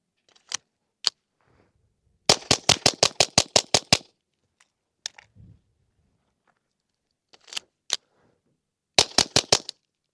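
Smith & Wesson M&P pistols fire on a range, sharp close gunshots in single shots and fast strings of about eight to ten rounds, separated by silent pauses.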